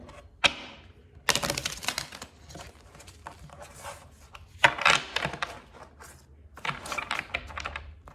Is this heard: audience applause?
no